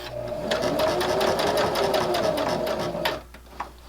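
A sewing machine stitching a fabric bookmark runs in a steady, fast mechanical whir for about three seconds, then stops abruptly, followed by a faint click.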